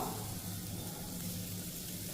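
Finely chopped onion with grated ginger sautés in a hot pan, giving a steady, dense sizzle that stays level throughout, close and continuous, with no voices.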